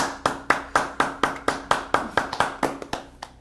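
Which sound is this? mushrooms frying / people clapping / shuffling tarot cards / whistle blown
people clapping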